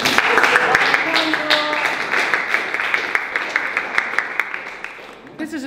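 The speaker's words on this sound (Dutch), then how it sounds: "Applaus!" Audience applause fills a hall at a charity painting event in Schijndel, steady dense clapping with scattered sharper claps, tapering off near the end as voices rise over it.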